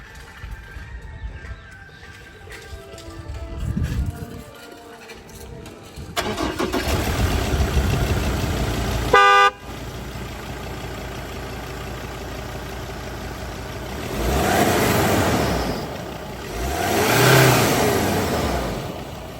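A 2017 Ford Endeavour 3.2L 4x4 diesel SUV engine with 78,000 km cranks and catches, settles into a rough idle, then revs up twice in rising and falling swells, close by with no voices.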